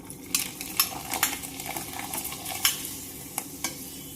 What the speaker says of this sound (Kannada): ಎಣ್ಣೆ ಕಾದೈತಿ, ಹಪ್ಪಳ ಹಾಕ್ತೇನೆ.